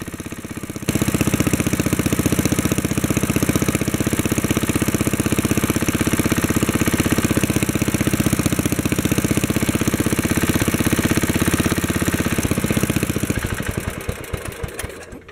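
A Wheel Horse 704 lawn tractor engine runs steadily close by with a loud, even chugging idle and light mechanical clatter, then winds down near the end as it is shut off.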